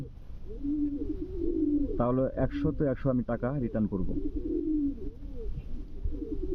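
Pigeons coo steadily in a rolling, repeated rhythm close by while someone talks over them in the middle of the stretch.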